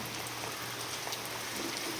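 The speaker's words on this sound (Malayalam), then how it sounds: "ഇന്ന് ഞങ്ങളുടെ വീട്ടിൽ ഭയങ്കര മഴയാണ് ഫ്രണ്ട്സ്." Heavy rain pours steadily outside a house in wind, a dense, even hiss of falling water with no voices over it.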